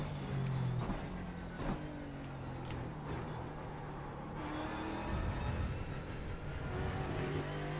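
A Ford Mustang race car engine drones steadily at VIR, heard from inside the car, a sustained mid-loud roar whose pitch shifts slightly as it revs and settles.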